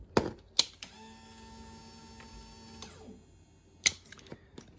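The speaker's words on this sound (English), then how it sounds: "your fuel pump priming" A few sharp clicks, then a Honda CBR motorcycle's fuel pump primes with a steady mechanical hum and high whine for about two seconds before it stops, followed by more clicks.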